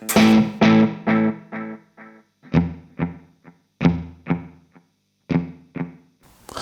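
Electric guitar through a Donner Yellow Fall delay pedal, loud picked notes and chords in short phrases with echoing repeats trailing behind each one, no talking.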